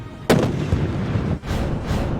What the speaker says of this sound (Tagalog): Mga pinagbabawal na paputok, ipinakita ng PNP kung gaano kadelikado.